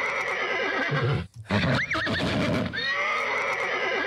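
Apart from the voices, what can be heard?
horse neighing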